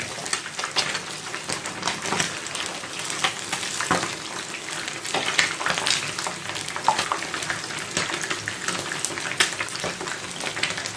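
Fish fries in a pan with a dense, continuous crackling sizzle, close and fairly loud, with scattered pops and the odd scrape throughout and no talking.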